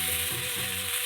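Potato pieces dropped into hot oil for a fish-bone chachra, giving a steady bright sizzle and crackle of frying, close and continuous with faint stirring clatter underneath.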